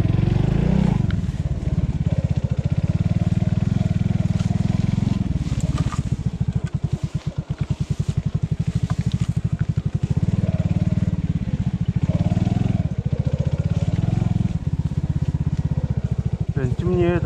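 Enduro motorcycle riding offroad through swampy terrain at dusk, its engine droning steadily with throttle swells and clattering, dipping briefly midway before pulling on again, close and loud throughout.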